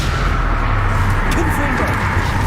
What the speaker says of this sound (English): Crucio.